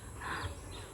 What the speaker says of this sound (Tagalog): What kind of bird are you?